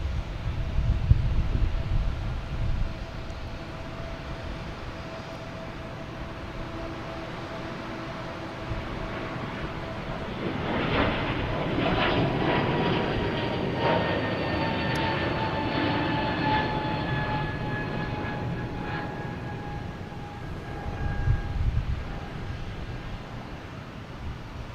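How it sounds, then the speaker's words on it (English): A JetBlue Airbus A321 arriving at Boston Logan, its jet engine roar swelling midway with descending whining tones as it passes, then easing off, with light wind noise at the microphone. "We got a JetBlue Flight 772 coming in from Cancun, an A321"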